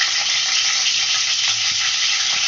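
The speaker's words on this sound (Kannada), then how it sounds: "ಇದೆಲ್ಲ ಎಣ್ಣೆನಲ್ಲಿ ಚೆಂದಾಗಿ ಫ್ರೈ ಆಗಲಿ." Three green chilies frying in hot oil in a pan for squid fry, a loud, dense, continuous sizzle close by with faint stirring knocks.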